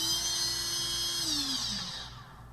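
A steady high-pitched whine from a faulty, slightly growly drone motor that spins down and drops in pitch near the end, close and loud with no talking.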